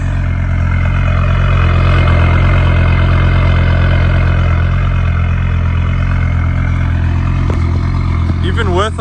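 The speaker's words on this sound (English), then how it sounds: "A little bit of a cold start." Audi RS6 (Urs6) V8 cold start with a loud, deep exhaust rumble through two mufflers, held steady and close for the whole stretch, with a brief spike of noise near the end.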